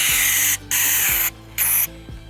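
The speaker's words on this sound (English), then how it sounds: "I sprayed it down in the track" Aerosol lubricant sprayed from a small nozzle into the power window track of a Ford F150 or Expedition, three loud close hissing bursts separated by short pauses.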